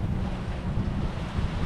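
Wind and waves around a sailing boat running downwind with swell from the rear quarter in about 15 knots, a steady low rush of water and buffeting wind across the microphone.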